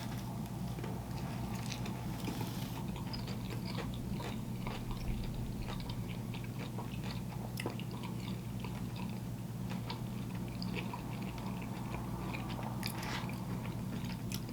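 Close crunchy bites and chewing of a Taco Bell crispy chicken taco sandwich with jalapenos, steady crackling and munching over a low constant hum, no talking.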